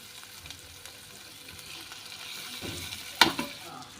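Black-eyed pea greens (chavli) are sautéed in masala, giving a steady, close sizzle with stirring scrapes and one sharp clink of a utensil near the end, and no voices.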